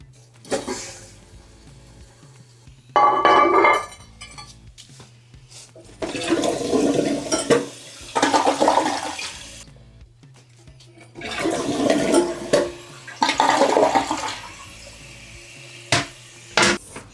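Water rushes and gurgles into a newly installed toilet as the supply is eased on, coming in several loud surges separated by brief quieter gaps, close up and without talk.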